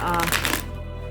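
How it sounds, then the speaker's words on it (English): Tarot cards riffle-shuffled together in a brief, close papery flutter lasting about a second. "They shuffle together real nicely."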